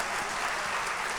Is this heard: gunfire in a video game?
no